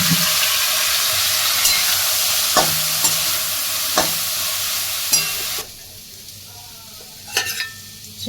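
Prawn malai curry with mustard, poppy seed, onion and tomato sizzles and fries steadily in a pan, broken by several sharp scrapes and clinks as it is stirred, with no talking.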